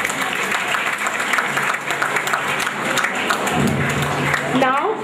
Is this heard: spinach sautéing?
no